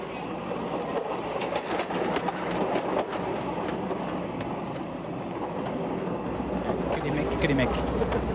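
Passenger train rolling along rails in the Philippines, a steady loud rumble with rhythmic clickety-clack and wagon rattle throughout, with faint voices in the carriage beneath the noise.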